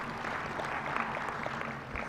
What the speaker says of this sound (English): It is always in order to clap for them as they make their way here.